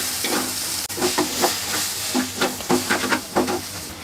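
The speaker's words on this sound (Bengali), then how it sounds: "ডিমটা ভাজা হয়ে গেছে। এখন সবগুলোকে একসাথে নেড়ে নেব।" Scrambled egg and macaroni masala stirred and fried together in a pan: a steady sizzle with repeated scraping stir strokes in an uneven rhythm, close and fairly loud.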